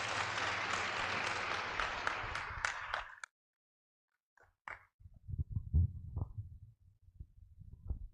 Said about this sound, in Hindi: ताली बजा के आपका स्वागत